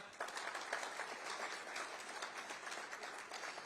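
Audience clapping in a hall during a motivational session at a business event in Vidarbha, India; a steady, fairly distant wash of many hands throughout, faint and even.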